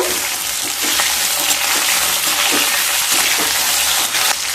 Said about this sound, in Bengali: তেল থেকে যখন সুন্দর একটা স্মেল বেরোতে শুরু করবে সেই সময় কেটে রাখা আমগুলোকে দিয়ে দেব। একটু নেড়ে নেব।